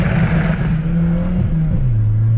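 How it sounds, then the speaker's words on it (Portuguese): A remapped Chevrolet Astra 2.0 engine revs loudly up close, its exhaust note holding steady and then dropping in pitch as the revs fall, with crackling pops during the lift-off. "Deixa eu ver se consigo dar uma pipocada."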